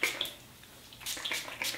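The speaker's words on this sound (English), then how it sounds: "I'm gonna spray water throughout the rest of my hair, but very lightly," Light misting of water from a spray bottle onto 4C hair, heard as a few soft, brief hissing spritzes in quiet surroundings, fairly close.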